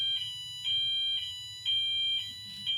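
A multitone fire alarm sounder under test gives out rising whoop tones in repeated bursts about once a second, thin and piercing, with a faint low hum between them and no speech.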